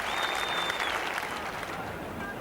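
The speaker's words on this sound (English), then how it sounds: "Applause from Javed, from his teammates." Applause from teammates and a cricket ground crowd for Imran Khan's century in his last Test match, dense continuous clapping from a distance that fades a little toward the end, with a faint voice in the background.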